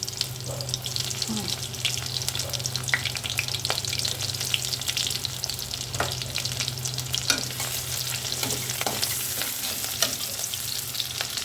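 Onions and green chilies fry in mustard oil with a loud, steady sizzle. Scattered scrapes and taps from stirring come through at irregular intervals.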